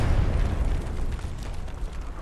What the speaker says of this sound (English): Grenades go off